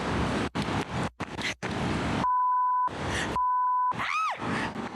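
Phone dial tones sound while someone calls 911, two steady electronic beeps each lasting about half a second, following bursts of noisy commotion and ending with a warbling rising tone, with no talk over the beeps.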